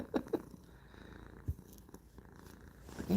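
Cats lounging during a relaxed home livestream, with a soft, low purr faintly rumbling in the background alongside a few brief thumps and handling noises; no one speaks.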